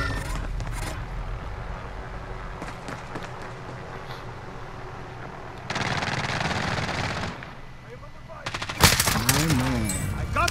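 Gunfire in Call of Duty: Modern Warfare, with bursts of rapid automatic shots, a sustained stretch of firing midway, and a louder flurry near the end, all under mixed game noise and occasional talk.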